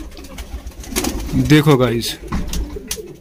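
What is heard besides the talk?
pigeon cooing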